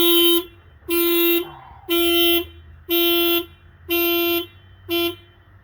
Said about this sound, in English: It's like it thinks that someone's stealing the car, so it's going to set the alarm off.